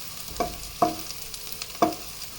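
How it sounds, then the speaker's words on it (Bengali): Onions and chillies frying in oil in a pan, a soft steady sizzle broken by three sharp scrapes of stirring, with no one speaking. "পেঁয়াজ ও মরিচ হালকা লাল লাল করে ভেজে নেব"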